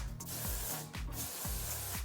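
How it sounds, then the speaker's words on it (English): A continuous hissing spray of Amika dry conditioner onto hair runs for about two seconds, close and steady, with a few soft rubbing or rustling sounds beneath it. "run some dry conditioner through it. This is from Amika, and I'm just going to spray it."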